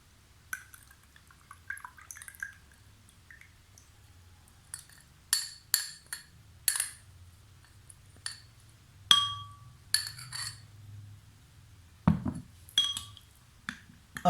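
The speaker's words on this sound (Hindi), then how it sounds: "अब इसको अच्छी तरह हिलाकर गर्म पानी में डाल लें।" A juice mixture with two spoons of apple cider vinegar poured into hot water in a glass: light scattered drips, clinks and splashes, close and quiet, with no talking.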